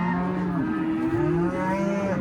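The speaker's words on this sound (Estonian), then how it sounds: "Siin on ka mul lehmad. Lehmad on siin." Farm cows lowing close by, several overlapping drawn-out moos that rise and fall in pitch, loud and continuous with no talk.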